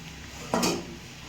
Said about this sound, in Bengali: এবারে ঢাকনাটা তুলে নিল মন